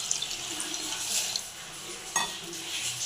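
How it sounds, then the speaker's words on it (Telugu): A glass of water is poured into a bowl holding soaked rice and curd, making a soft continuous splashing rush up close with a brief clink partway through. "ఇప్పుడు 1 గ్లాసు"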